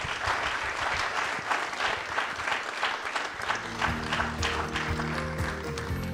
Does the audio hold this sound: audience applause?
yes